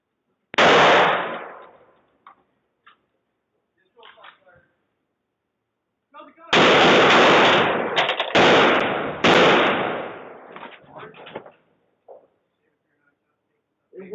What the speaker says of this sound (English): they are going to get out having heard this guy shooting his AR-15